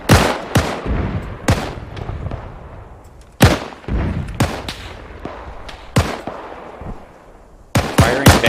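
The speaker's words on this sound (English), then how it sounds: "mortar's actually shooting" Mortar rounds firing in Arma 3, in a snowy WWII winter battle: loud, sharp booms roughly every second or two, each with a rumbling tail, plus several quieter distant shots and no talk.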